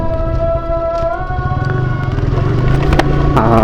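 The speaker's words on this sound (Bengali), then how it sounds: "এই বাইকটার সাউন্ডের কথা না বললেই নয় অসাধারণ সাউন্ড অসাধারণ এক্সস নোট" A TVS Apache RTR 160 motorcycle idles close by, its exhaust giving a steady, loud, throbbing note with a faint rise in pace near the end.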